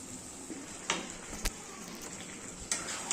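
Chicken skins fry in hot spiced oil with a steady, moderate sizzle, punctuated by a few sharp pops and clicks of stirring, heard close with no talking.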